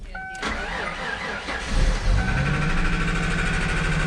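A Ford Mustang V6 with a big cam cranks over briefly, then catches and settles into a loud, lumpy, uneven idle that carries steadily to the end.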